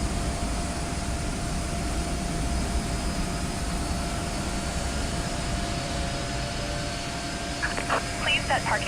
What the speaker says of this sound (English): Let's go ahead and get the left engine started.